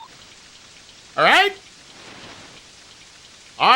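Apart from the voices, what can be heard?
rain in video game TNN Bass Tournament of Champions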